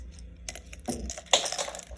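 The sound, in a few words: pen dropped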